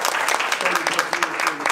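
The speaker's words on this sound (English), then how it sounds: "Keep that applause going for our superintendent of East Aurora Schools, Dr. Jennifer Norrell." An audience claps steadily for a school superintendent at a community forum on education, dense applause holding at moderate level throughout with some voices mixed underneath.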